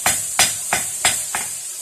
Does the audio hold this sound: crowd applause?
no